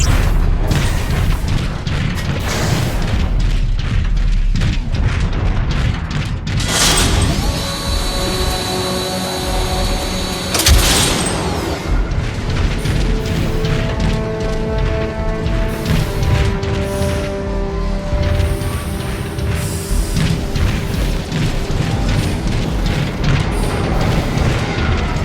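Artillery fire in Transformers: Fall of Cybertron comes as loud, continuous booming rumble layered with droning mechanical hum and sustained tones, with heavy blasts throughout and no talking.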